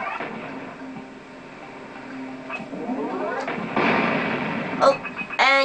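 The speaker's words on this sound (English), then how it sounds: "Oh, and you blow them open." Metal boxes are blown open in the Jak and Daxter video game, with bursts and pops over a whirring, rising game soundtrack, followed by sharp tonal game effects near the end.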